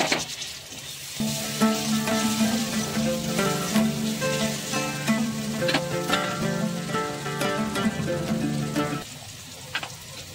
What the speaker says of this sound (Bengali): এবার আমি টমেটো কুচি দিয়ে দিলাম।